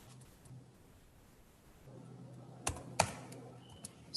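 Computer keys are typed at a LaTeX workshop: a few soft, scattered taps that are faint against a quiet room hum, with a couple of sharper clicks near the end.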